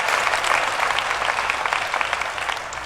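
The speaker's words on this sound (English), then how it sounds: "Let's give him a round of applause too." An audience at the DEF CON 20 hacker convention claps in a crowded hall, a dense, even burst of applause lasting the full few seconds with no talk over it.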